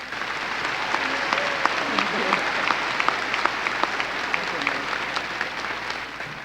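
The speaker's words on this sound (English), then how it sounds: "Please join me in a round of applause." Sustained applause fills a hall at a college commencement ceremony, dense clapping from a large crowd that holds steady for several seconds.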